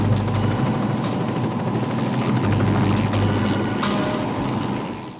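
A helicopter in the 1984 film Firestarter gives a loud, steady rotor-and-engine drone that holds evenly throughout, thinning slightly at the very end.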